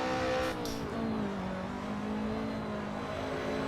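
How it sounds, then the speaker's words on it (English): A BMW E30 M3 on a race track, its engine droning loud and close with rising and falling pitch as it works through gears, a brief chattering from the skipping rear axle, no voices. "you can hear the rear axle just skipping"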